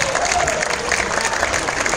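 A seated audience at a film Q&A gives a steady, dense round of clapping, loud and close, filling the whole moment without pause.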